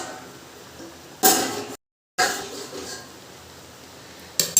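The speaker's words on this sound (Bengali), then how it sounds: "আর এই যে এবার ঢাকনাটা তুলছি।" Lid lifted off a cooking pot steaming lentil-paste bori (bori bhapa), a sharp metallic clank then a hiss of released steam, repeated near the end, close and fairly loud.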